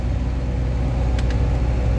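A Liebherr LTM 1090 mobile crane retracts its telescopic boom, its engine and hydraulics producing a loud, steady low drone with a couple of brief high squeaks.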